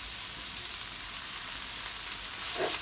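Rump steak sizzling in a hot pan with seasoning, a steady bright frying hiss held close and constant, with a brief stir or scrape near the end.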